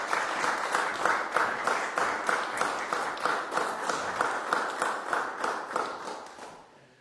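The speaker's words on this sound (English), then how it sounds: "So a round of applause for Nicolás." A lecture audience gives a pianist who played Bach a round of applause, rhythmic, fairly quiet clapping that pulses in regular unison beats before fading out at the end.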